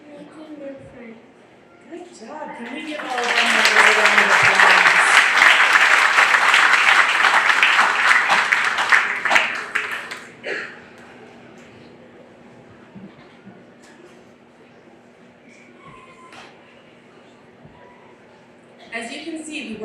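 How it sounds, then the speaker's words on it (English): Applause from a county fair opening ceremony crowd cheering the 4-H royalty members, swelling into a loud, dense burst of clapping for about seven seconds before fading into quieter murmuring and scattered talk. "Can we give all of them a round of applause?"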